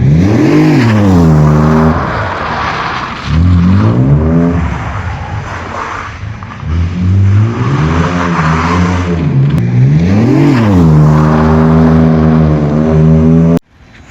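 A Nissan Z31 drift car revs hard over and over, its engine note climbing and falling in repeated loud sweeps close by, with a sharp cutoff at the end.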